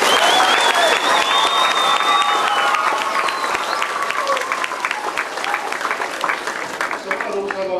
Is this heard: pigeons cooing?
no